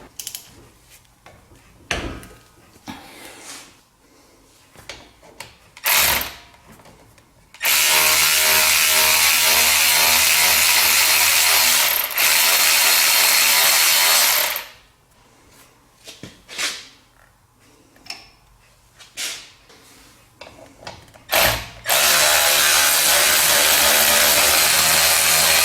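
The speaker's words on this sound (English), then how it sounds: "Using a 14 millimeter socket, loosen and remove the slide pins." Ratchet and 14 mm socket loosening brake caliper slide pins on a 2011 Chrysler 200: two long loud bursts of rapid ratcheting clicks, separated by quieter clanks, taps and handling noises close by.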